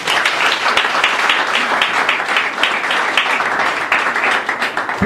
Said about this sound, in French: je vous demande des applaudissements